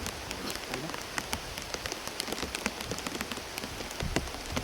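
Heavy typhoon rain pours down in a steady, dense hiss of drops drumming on surfaces, loud and continuous with scattered sharper splatters.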